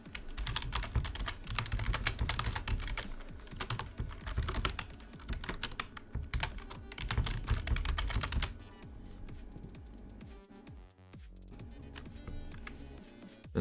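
Rapid computer keyboard typing while entering a new email address for a Roblox account, with dense, continuous close key clicks that thin into sparser taps near the end.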